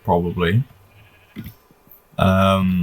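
Sheep bleat in a blocky survival video game, with two quick bleats up front and a longer, louder bleat near the end. Someone talks between them.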